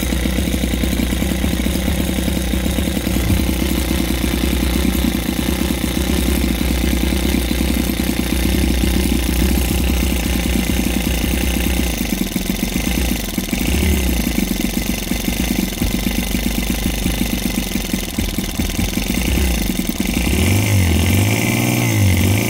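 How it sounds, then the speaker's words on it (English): A miniature 2.7cc petroleum gas model engine fitted with a new exhaust pipe runs steadily and loudly throughout, a dense throaty hum with a brief change near the end. "it creates a nice throaty sound when the engine is running"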